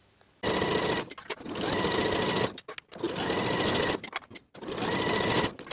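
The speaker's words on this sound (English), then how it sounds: "Using a twin needle, your cover stitch machine, or a regular narrow zigzag stitch, sew along that inner raw edge all the way around." A sewing machine runs along the inner raw edge of a knit jumpsuit, using a twin needle, cover stitch or narrow zigzag. It stitches in four rapid, whirring bursts separated by short pauses, close and clear.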